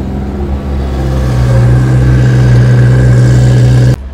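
A Porsche GT3 and a Ferrari F355 GTS start off at Le Mans Classic, with a loud, close engine drone that holds a steady rising tone before cutting off abruptly near the end.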